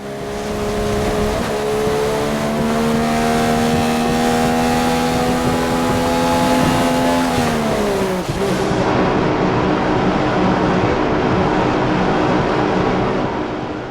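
A race car in a racing video game pulls into the pits at the Malaysia circuit, its steady engine drone easing down in pitch before a sudden shift around midway, then continuing as a broadband roar with no talk.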